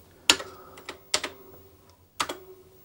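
Separate clacking keystrokes on a Commodore SX-64 computer keyboard, three sharp close taps with small follow-up clicks and quiet gaps between them, with no voices.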